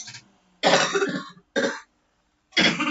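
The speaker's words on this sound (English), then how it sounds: "I have that cough." Three harsh, throaty coughs in separate bursts, close and loud, with short silences between them and no talk.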